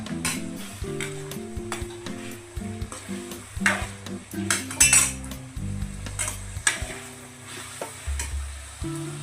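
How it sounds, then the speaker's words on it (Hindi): Chicken frying with ginger garlic paste for a capsicum chicken curry, a constant sizzle broken by repeated clinks and scrapes of a metal spoon against the pan, fairly close, no talking. "चिकन के साथ ही अदरक लहसुन का पेस्ट हम भून लेते हैं।"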